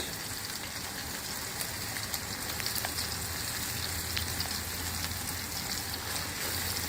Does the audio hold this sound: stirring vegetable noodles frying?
yes